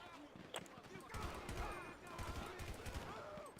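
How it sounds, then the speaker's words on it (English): Bursts of rapid gunfire crackle and pop across the clip in Grand Theft Auto V with a police mod, mixed with game-like effects and echoing impacts, fairly distant and sharp. "I see gunfire. I'm going to go ahead and open fire."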